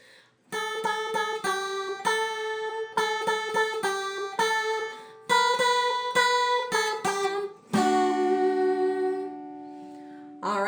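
A guitar plays a riff slightly out of rhythm, a run of plucked single notes in uneven clusters with short gaps, ending on a longer ringing note that decays; no voices.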